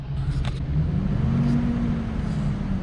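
The engine of a Chevy Silverado 2500 4x4 auction truck runs with a steady, close, low rumble and a slight rise in pitch.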